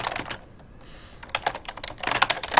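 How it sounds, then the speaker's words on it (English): Typing on a computer keyboard at a desk, rapid irregular key clicks in bursts with a short pause in the middle, close and crisp, no voices. "typing something on here."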